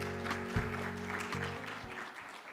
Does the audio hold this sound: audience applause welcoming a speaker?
yes